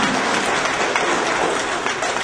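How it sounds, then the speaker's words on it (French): Loud, continuous applause from an audience at an inauguration ceremony, a close, dense roar of clapping that stays even from start to finish. "Il faut les applaudir, il faut les encourager."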